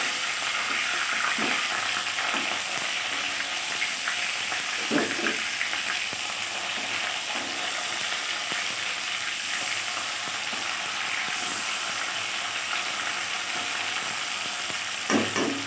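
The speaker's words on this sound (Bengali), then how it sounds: "একটু বেশি করে লাল করেই ভাজলাম মাছটা" Steady, close sizzling and crackling of tilapia frying in hot oil, with a few soft scraping stirs throughout and no voices.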